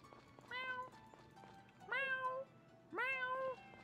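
A cat in the farming video game Friends of Mineral Town meows three times at a steady pace, clear and close against a quiet background with soft game tones.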